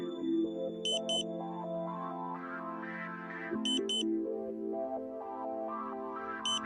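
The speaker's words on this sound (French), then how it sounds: "Vous entendez une nouvelle fois la tonalité ambulance." Repeating electronic beep tones from a Tooway Ka-band satellite modem during dish pointing, in stepped melodic patterns, with short high double chirps recurring every few seconds, steady and clear with no voices.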